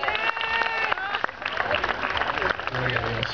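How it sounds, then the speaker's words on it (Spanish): Audience applause at an outdoor church concert in a park, steady clapping from a crowd with voices and singing-like tones mixed throughout, moderately loud and continuous. "¿Cuánto dan un fuerte aplauso al Señor?"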